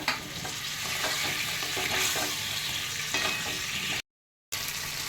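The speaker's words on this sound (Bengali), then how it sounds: "আলুগুলো দিয়ে একটু ভালো করে নাড়াচাড়া করে নেব" Potatoes for a vegetarian aloo dum being stirred as they fry in oil in a pan, with a steady close sizzle and repeated scraping strokes of the spatula, then a brief cut to silence before the frying resumes.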